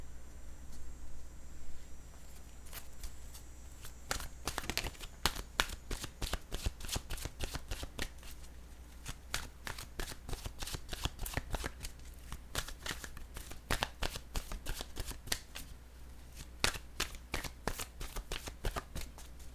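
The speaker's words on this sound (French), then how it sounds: "Je vais piger maintenant une carte de mon oracle de l'âme intuitive." A deck of oracle cards riffled and shuffled close up, a continuous run of quick crisp flutters and slaps lasting the whole stretch, over a low steady hum with no talking.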